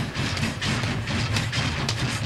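Train noise from the Japanese cyberpunk film 964 Pinocchio: a steady, loud rumble with rhythmic rattling clatter repeating throughout, continuous with no talk.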